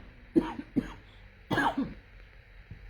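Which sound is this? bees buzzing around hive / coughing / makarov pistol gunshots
coughing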